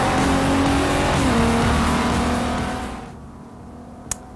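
A 2013 Nissan GT-R Black Edition roars loudly on a race track, its engine note steady and strong before fading away over the last second, with one brief sharp click near the end.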